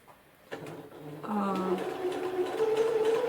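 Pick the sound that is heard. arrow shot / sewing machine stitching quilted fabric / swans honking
sewing machine stitching quilted fabric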